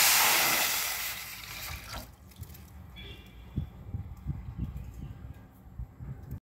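One and a half glasses of water poured into a pan on a lit stove makes a loud, broad rush for about two seconds, then fades into faint low knocks and clatter.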